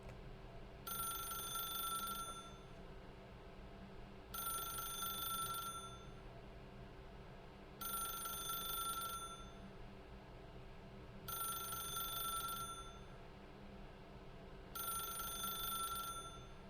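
A telephone rings inside The Stanley Parable: five evenly spaced bursts of bright electronic ringing, about three seconds apart, sound over a low steady ambient hum with no voices.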